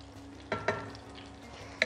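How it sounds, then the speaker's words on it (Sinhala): Garlic fries in leftover oil in a pan with a faint, low sizzle and a few soft stirring scrapes, close and quiet with no talk. "අපි ඒ භාජනේ ඉතුරු තෙල් ටිකටම අපේ සුදු ලුණු ටික එකතු කරලා ටිකක්"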